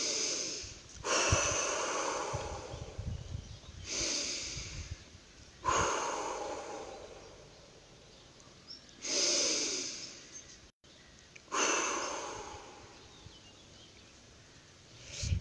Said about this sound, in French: Vous prenez 3 grandes respirations pour vous recentrer.